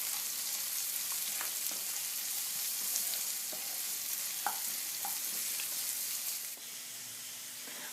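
Chopped onion sizzles steadily in a hot pan for a chicken gravy, a continuous close frying hiss with faint stirring clicks and no talk.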